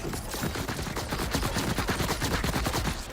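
Sustained barrage of rapid gunfire from a targeted-barrage attack during a boss fight in Borderlands 4, dense overlapping shots filling the whole stretch at a loud, steady level with no talk.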